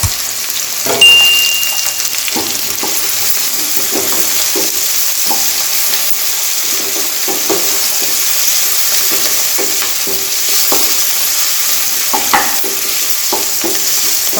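Tomatoes sauté in a pan for a potato and peas curry, with a steady hissing sizzle and a run of soft, irregular stirring taps and scrapes close by.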